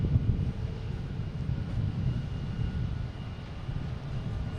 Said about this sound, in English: Next taking off will be American Airlines E170 heading to Madison